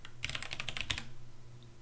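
Fingers type on a computer keyboard into a search field: a short, rapid run of soft key clicks, then stillness with faint room hum.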